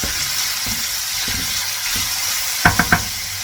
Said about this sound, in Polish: teraz dorzucamy naszą cebulę. I podsmażamy tak około dwóch minut